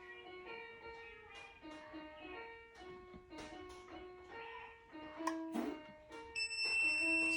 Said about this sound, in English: So this is the sound that you will hear when the buzzer is done